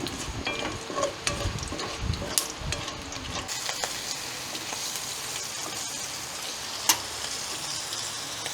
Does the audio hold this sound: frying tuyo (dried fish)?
yes